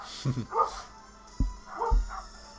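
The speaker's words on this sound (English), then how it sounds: "And there's some dogs again." Dogs bark a few times in the background, several short woofs spaced apart and fairly distant, with a person talking nearby over a quiet room.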